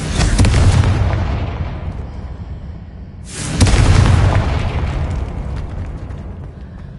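Two heavy booming blasts from the Confringo spell in Hogwarts Legacy, each a loud burst followed by a long rumbling decay, the second landing a few seconds after the first.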